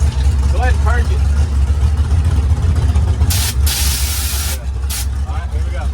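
Nitrous purge on a car hisses in two bursts, one long spray of about a second and a shorter one after, loud over a steady idling engine rumble, with voices talking near the start.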